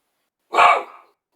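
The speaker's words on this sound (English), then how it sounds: "She's just sitting up on the couch barking." A single sharp dog bark, close and loud, in an otherwise quiet room, from a dog sitting on a couch.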